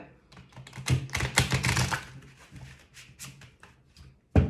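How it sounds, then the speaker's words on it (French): Tarot cards being shuffled by hand, a quick burst of crisp riffling and flicking that swells and fades, with a sharp tap of the deck at the end. "Allez, encore une fois, pour bien mélanger les cartes."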